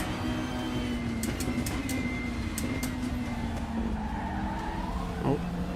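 Volvo race cars in the RaceRoom racing game battle closely, steady engine drone with shifting pitch and faint tyre squeal, continuous and moderately loud throughout.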